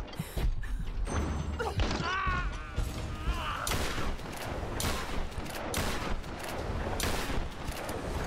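Repeated shotgun blasts in the Tomb Raider video game, heavy thuds and bursts of gunfire coming in a steady, uneven series over continuous game noise, with some voice underneath.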